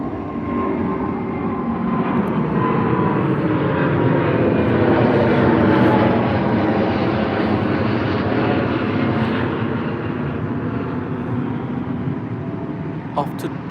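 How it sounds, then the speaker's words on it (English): Qatar Airways Airbus A350 jet climbing out on departure from Heathrow with its landing gear retracting, a loud, steady broadband engine roar that swells toward the middle and stays strong for the whole stretch. "350 for Qatar heading out to Doha. Just retracting its gears"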